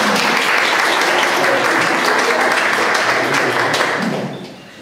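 Loud, sustained applause from an audience at an art exhibition opening in Włoszczowa, many hands clapping steadily for several seconds before fading out near the end.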